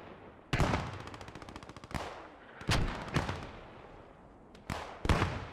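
Machine gun bursts in the game Post Scriptum rattle in rapid, sharp volleys, several loud close bursts and single cracks echoing over about five seconds.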